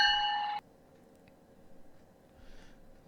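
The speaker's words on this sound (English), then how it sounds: "Here's what the bell sounds like." Locomotive bell from the Trainz railway simulation game, a bright metallic ringing tone held steadily for about half a second, then cut off abruptly, leaving near silence.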